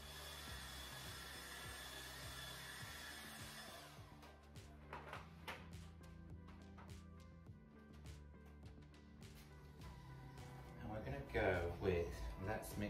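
A hair dryer blows steadily over freshly painted découpaged furniture for about four seconds, then cuts off, followed by someone talking and light tapping and rubbing sounds.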